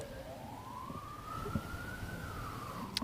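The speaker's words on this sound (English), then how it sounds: "A lot of sirens going on today." Distant emergency vehicle siren wailing through an outdoor setting during a lawn bowls triples final, one long rising and falling tone that stays faint and steady under a broad background hum.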